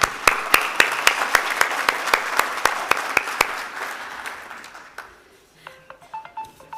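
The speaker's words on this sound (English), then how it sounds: "We would like to thank all our sponsors by giving them a huge round of applause" A conference audience gives a full round of applause that fades out over several seconds. Sharp individual claps stand above the crowd noise, and a few soft tones follow at the end.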